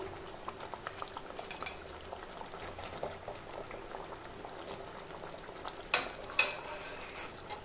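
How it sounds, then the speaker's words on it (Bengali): Spicy pabda fish curry bubbles at a steady simmer in a pan as fried fish pieces go in one by one, with soft splashes and a couple of sharper clinks near the end. "এবার আমি সাঁতলে রাখা মাছগুলো একে একে ঝোলের মধ্যে দিয়ে দিচ্ছি"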